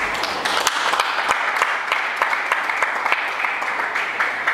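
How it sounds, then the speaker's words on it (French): Steady applause from a church congregation, dense clapping sustained throughout at a fairly loud level with no voices standing out. "Par vos applaudissements."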